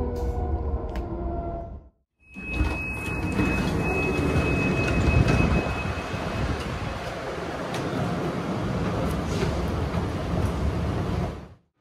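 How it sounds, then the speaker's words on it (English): Train ride on the way to Munich central station, a steady rumbling rail roll with a loud, continuous rattle and a thin wheel squeal partway through, after a short quiet gap at the start. "already on the train and we're on our way to Hofbahnhof, which is the central station"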